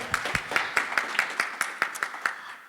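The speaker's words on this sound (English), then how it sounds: "let's give a round of applause, because that's a big deal" A small audience claps at a Friday evening civic community gathering, about a dozen distinct, evenly spaced claps in a slow steady rhythm, fairly close and clear with no talking.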